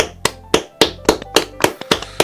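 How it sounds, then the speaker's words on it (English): Sharp, evenly spaced claps ring out in a clubroom in the Doki Doki Blue Skies game, about nine crisp hits in a quick, regular rhythm, close and loud with no talking. "Sheepishly, I follow along, and soon the clubroom is filled with sound of applause"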